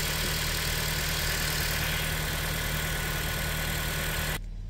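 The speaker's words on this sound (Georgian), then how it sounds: "მაღალი ბრუნდა ჩამოვიდა დამშვიდა მოტორი. აი ამ პოზიციიდან უკვე გადავა პირდაპირ ჰიბრიდზე." A hybrid car's engine comes down from high revs and settles before switching to hybrid mode, giving a loud, steady, close drone that cuts off abruptly just before the end.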